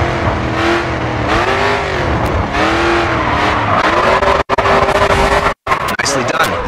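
A race car in GRID 2 slows for a corner, its engine dropping in pitch as tires squeal, loud and close, while a voice talks over it.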